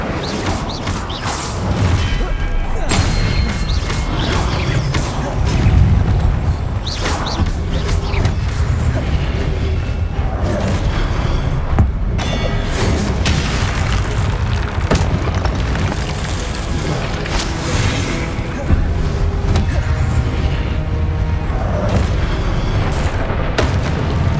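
Spells like Expelliarmus and Incendio go off in Hogwarts Legacy combat as steady booms, crashes and whooshes, dense and continuous for the whole stretch at moderate level.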